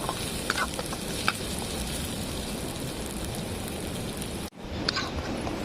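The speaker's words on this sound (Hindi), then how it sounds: "अब इसको अच्छे से फ्राई करते हैं।" Food sizzles steadily in a pan at a riverside night campsite in India, a continuous broadband crackle with a few clinks, briefly cut off near the end before resuming.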